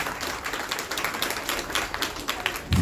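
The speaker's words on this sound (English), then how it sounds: "Can you give them a big round of applause" Audience applause at an evening book launch event for an author, a dense, steady wash of many hands clapping throughout, moderately loud and continuous.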